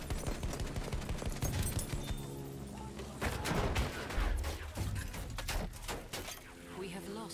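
Battlefield 1 battle scene of artillery and gunfire: dense, continuous cracks and rumbling blasts at moderate level, with scattered sharper shots and shouted voices mixed in throughout.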